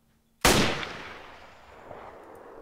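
A single AR-10 rifle shot rings out in the video game Arma 3, a sharp loud crack followed by a long fading echo.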